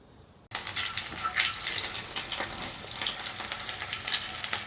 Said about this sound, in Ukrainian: Давайте їх будемо обсмажувати.